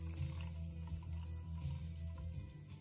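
Thirty-year-old Richard Petty Pepsi fizzing, a steady soft carbonation hiss with a faint low hum underneath, continuous for about three seconds with no talking.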